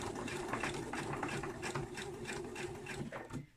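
Sewing machine stitching a fabric hairband, a steady close mechanical whirr of rapid needle strokes running continuously before slowing at the end.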